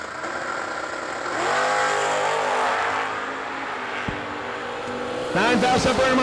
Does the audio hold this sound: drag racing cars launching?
yes